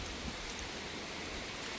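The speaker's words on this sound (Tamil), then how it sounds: "ஸோ சரியான மழை" Heavy rain pours down outdoors at a village fishing spot, a dense, loud, steady hiss of water with no pauses.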